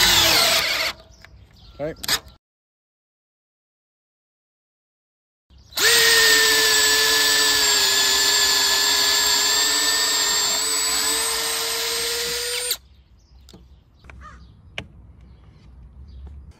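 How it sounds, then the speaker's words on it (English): A Bauer cordless drill fitted with a large bit whirs loudly and steadily for about seven seconds, its pitch sagging slightly under load, with brief talk before and quiet handling afterward. "let's see now what we get when we throw in a larger drill bit on here"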